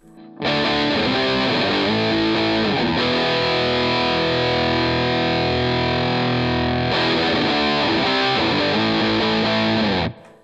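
An electric guitar plays through a gain pedal into the normal channel of a Vox AC30, giving thick distorted chords that ring loud and sustained for about ten seconds, without any voice.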